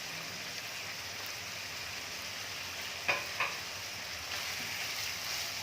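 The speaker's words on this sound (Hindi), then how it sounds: "अब मैं इसमें शिमला मिर्च डालूँगी, बंद गोभी और प्याज डाल देंगे।" Capsicum, cabbage and onion hit a hot pan with a continuous loud sizzle, broken by a couple of brief clatters of vegetables dropping in midway.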